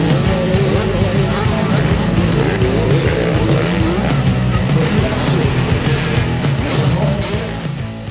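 Junior motocross bikes race around a dirt track at a national series final round in Silang, Cavite, their engines a loud, continuous roar of overlapping revving close by.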